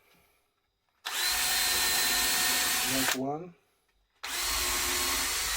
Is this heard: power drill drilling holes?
yes